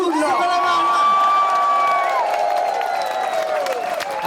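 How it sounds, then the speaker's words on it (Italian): A live comedy show audience claps and cheers together, a dense, sustained roar of applause with whoops and shouts layered over it, fairly loud and steady throughout. "Però applauso e urlo"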